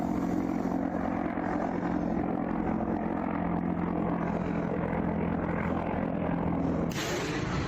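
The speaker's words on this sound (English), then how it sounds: "Head of Wagner Group, Prigozhin, claims they have shot down a Russian helicopter that opened fire" A Russian helicopter over a war zone drones loudly and steadily with a dense rotor and engine roar filling the whole stretch, close and continuous, with a sharp change near the end.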